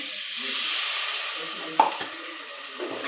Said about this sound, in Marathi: चांगलं वाटण परतून घ्यायचं.